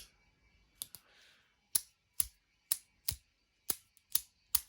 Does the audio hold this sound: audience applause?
no